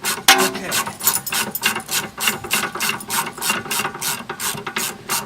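Hand ratchet loosening a sway bar link bolt on a BMW E46, a rapid run of close, crisp clicking strokes in steady rhythm with no talking.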